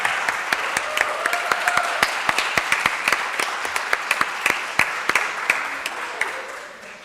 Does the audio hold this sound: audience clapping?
yes